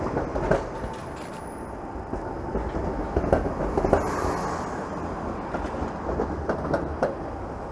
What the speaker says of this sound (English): And there goes a 501 Queen streetcar.